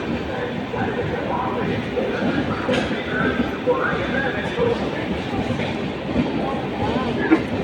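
A train pulls into platform 1 on a weekly service to Madurai, a rumbling, clattering rush of wheels and carriages close by, with people talking over it.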